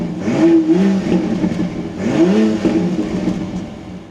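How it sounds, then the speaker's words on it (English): 2026 BMW X3 M50 engine starting from inside the cabin, a loud rising start-up flare that settles, then a second rev swell fading to a steady idle hum. "keeping my foot on the brake, we can go ahead and fire it up."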